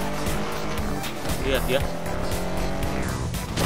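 Cars driving recklessly in a game, tires squealing loudly through a steady engine roar with no break, while someone talks over the noise.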